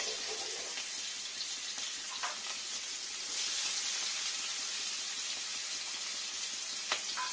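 Chopped onions sizzle in hot oil for a Bengali katla fish curry, a steady bright hiss with occasional pops and stirring clinks, close and fairly quiet.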